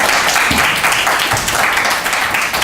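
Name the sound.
audience applause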